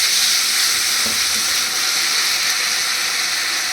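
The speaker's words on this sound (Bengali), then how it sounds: "এবার দিয়ে দিচ্ছি জল।" A loud, steady sizzling hiss rises as water hits hot masala that has released its oil, with green and red chillies, for a rohu fish kalia. The sizzle runs continuously and close, with no talking.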